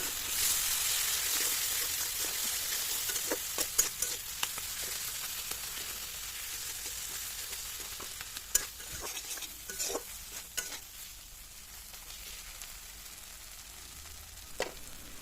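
Spice masala with chilli and turmeric stir-fried in oil for a tilapia fish curry, a soft continuous sizzle under repeated spatula scrapes and sharp taps against the pan, close and fairly quiet.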